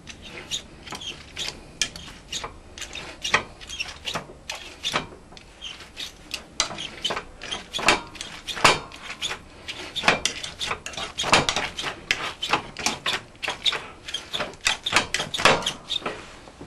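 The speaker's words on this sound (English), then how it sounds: "Then we're going to mash that all up." Parsnip and apple mash with parsley and chives being mashed by hand with a masher, giving a steady run of close, soft squelching thuds and clinks against the pot, repeated in an irregular rhythm.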